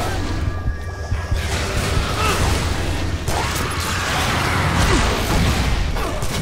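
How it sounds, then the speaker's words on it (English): Dense, continuous crashes and mechanical clatter of explosions in the video game Shadow Warrior, loud and busy throughout with whooshing bursts and no clear gaps. "Now, I can't tell if you're doing the explosions or if they are."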